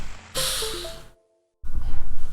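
Windows computer system sounds as a device disconnects, heard as a short descending series of electronic tones, followed by a moment of silence and then muffled rumbling noise.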